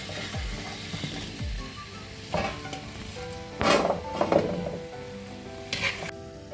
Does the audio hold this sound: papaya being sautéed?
yes